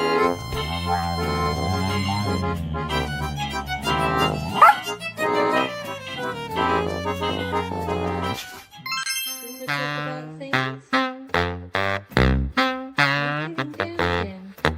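Two dogs fight, a steady toned backdrop giving way midway to sharp, rhythmic barks and yips in quick bursts, loud and close, with no talking.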